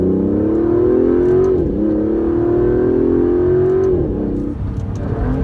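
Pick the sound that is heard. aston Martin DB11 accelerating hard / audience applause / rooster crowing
aston Martin DB11 accelerating hard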